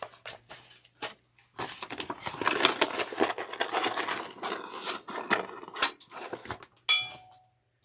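Metal zipper pulls jangle and clink while being handled during bag sewing, a run of small bright metallic chinks and taps with a couple of sharper knocks, close and fairly quiet with no voices.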